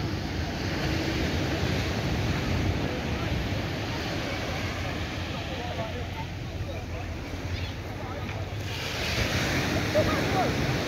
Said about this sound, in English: this is Dover Beach in Christ Church. This is on the south coast of Barbados.